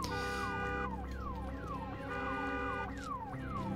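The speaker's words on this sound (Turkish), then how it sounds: "Alarm." An alarm blares in the zombie video game Days Gone, a loud, steady electronic wail that repeatedly sweeps downward in pitch in a regular cycle, heard alone without speech.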